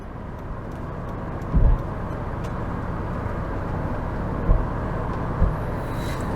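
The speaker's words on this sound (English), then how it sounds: "There's a bit of wind noise because I've got both sunroofs open." Wind noise inside a Fiat Multipla (Type 186) cruising at 60 mph on a motorway with both sunroofs open, a steady broadband rush and low road rumble with a few brief thumps.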